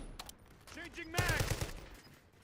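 Video game gunfire, a quiet burst of rapid automatic shots with some faint scattered pops before it, heard at low volume in the background.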